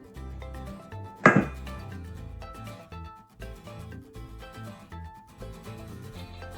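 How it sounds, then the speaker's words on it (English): Knife slicing a block of butter on a cutting board, heard as one sharp close tap followed by softer cutting sounds, without talking. "So I'm gonna slice it up. Okay, slice up the butter."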